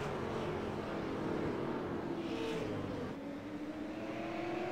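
Race cars running laps at the Las Vegas Bullring, a steady loud engine roar with rising and falling pitch as the cars circle, continuous through the stretch with no talk.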